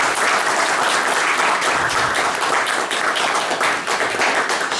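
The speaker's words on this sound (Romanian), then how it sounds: "Doresc să-l aplaudăm pe Părintele Bols pentru tot ce a reușit." Loud, dense applause from an audience at an event marking a family piano repair, a steady wash of many hands clapping throughout.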